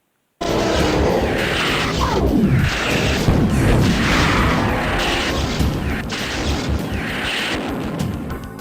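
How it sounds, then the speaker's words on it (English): A BFG energy weapon in the PC shooter Doom 2 fires into a dense, continuous roaring wash of blasts and booms that stays loud throughout, with no talk. "the BFG shoots out massive energy blast which can one-hit most enemies"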